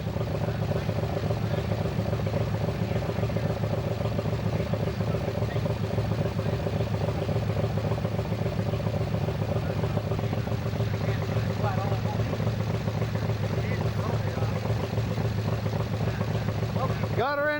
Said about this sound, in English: Got the dune buggy running just in case you wonder what that noise is.